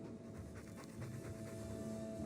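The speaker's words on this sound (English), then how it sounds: "I'm sick of what's-his-name staring and panting." Mabari war dog from the Dragon Age 2 video game panting steadily and close, a continuous rhythmic breathy huffing over a low game ambience with a faint steady tone, no talk.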